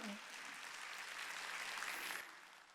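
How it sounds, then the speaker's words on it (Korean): A congregation at a Korean church's Wednesday worship service claps steadily for a few seconds. The applause is faint and distant, then fades out. "박수로 하나님께 영광을"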